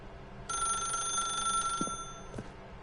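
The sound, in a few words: telephone ringing in video game The Stanley Parable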